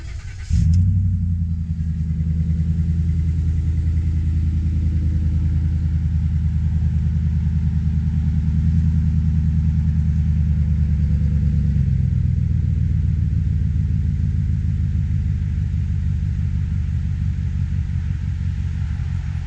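A lifted 2014 Ford F150 5.0L V8 with an aftermarket exhaust cranks and fires up, then settles into a loud, steady low rumbling idle through the exhaust, continuous and close.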